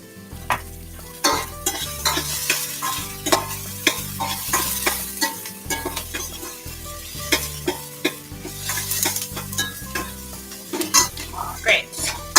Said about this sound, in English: I'm gonna throw in my garlic for just a minute until it's fragrant